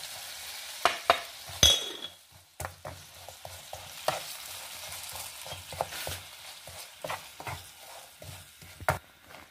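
Jaggery syrup cooking in a pan while a spoon stirs it, producing a steady low bubbling sizzle marked by frequent sharp clicks and scrapes of the utensil against the pan, close up with no talking.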